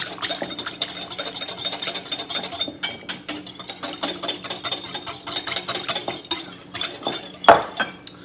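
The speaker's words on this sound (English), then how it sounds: "And we're just going to whisk that" A metal whisk beats ingredients in a bowl with rapid, clinking strokes in quick bursts, close up, briefly pausing before resuming its brisk scraping rhythm.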